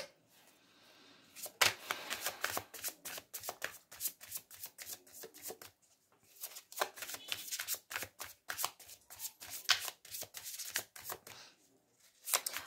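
Tarot cards are shuffled by hand in quick riffling bursts of crisp papery flicks, pausing briefly around the middle and near the end before resuming, close and clear with no voices.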